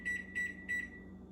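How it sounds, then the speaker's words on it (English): A kitchen timer being set while plant-based lasagna roll-ups are prepared gives three short, bright electronic beeps at an even pace, close and clear over a quiet room. "I'm going to set my timer."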